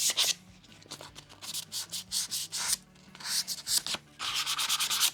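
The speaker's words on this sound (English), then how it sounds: "when you scuff up plastic like this, it just gives the glue something better to bind to" 220 grit sandpaper rubs over plastic on an inflatable kayak or paddle board, making rhythmic back-and-forth scratchy strokes up close in short repeated bursts with brief pauses.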